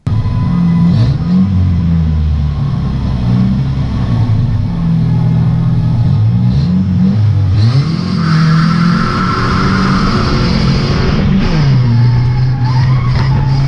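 Loud race car engine heard from inside the cockpit at Knockhill circuit, revving up and down through gear changes with tyre squeal and a constant roaring rumble.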